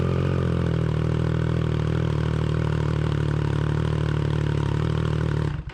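A Triumph Daytona 660 motorcycle fitted with a CS Racing exhaust idles loud and close with a steady, deep, throbbing engine note, then cuts off sharply at the end.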